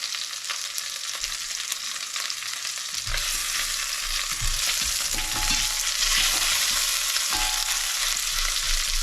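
A lamb shank browns in a hot pan, sizzling and crackling steadily and loudly the whole time, with occasional low thumps as the meat is turned; nobody speaks.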